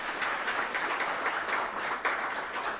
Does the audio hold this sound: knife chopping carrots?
no